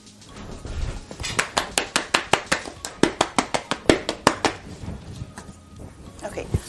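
Cake pans filled with fruitcake batter, fruit soaked in wine and brandy, tapped down hard on a kitchen counter, giving a rapid run of about twenty sharp, loud knocks in an uneven rhythm.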